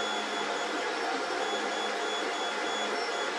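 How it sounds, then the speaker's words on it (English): GeeeTech A30 3D printer running, a steady, even whir with faint high tonal whine from its motors and cooling fans, continuous and unchanging throughout. "quite a very quiet printer."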